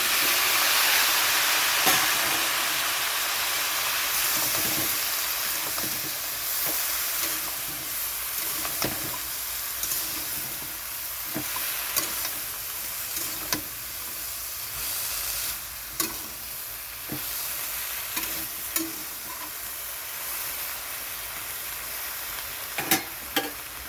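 Pumpkin stalks sizzle and fry in a pan, a steady loud hiss throughout with scattered crackles and pops spaced irregularly, close up and with no talking.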